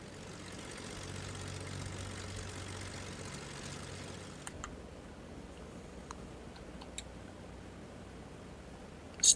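Twin-engine Beechcraft BE58 Baron in the FSX flight simulator turns over, a low steady propeller drone that drops away midway, followed by a few light clicks and a short burst at the end.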